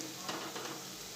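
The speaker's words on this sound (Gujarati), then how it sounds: "ને તળી લઈશું" Soft bubbling sizzle of vadas deep frying in oil over a medium gas flame, quiet and steady over a brief moment.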